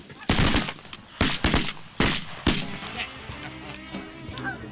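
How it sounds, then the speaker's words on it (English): Shotguns fired by waterfowl hunters, four or five sharp close blasts in quick succession with brief gaps, followed by quieter outdoor ambience and faint voices. "Good shooting, fellas. Good shooting."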